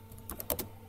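Several quick keystrokes on a computer keyboard, a short cluster of soft, close clicks over a faint steady hum.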